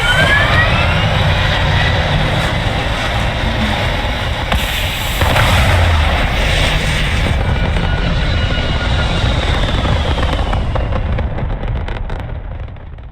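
Spaceship engines fire for takeoff in the video game Starfield, a loud, sustained roar with rumble and rising whine that holds steady for about twelve seconds before easing off at the end.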